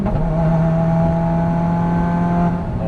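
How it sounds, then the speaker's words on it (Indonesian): Subaru WRX accelerating hard with a flat-foot shift into fifth gear, a loud, steady engine drone heard from inside the car, its pitch holding with a brief change near the end, and no talk. "Masuk ke gigi 4, flat foot shifting-nya berhasil, dan kita masuk gigi 5."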